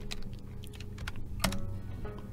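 Rapid typing on a computer keyboard, close and steady, with irregular clusters of keystrokes and one sharper key hit, alone without speech.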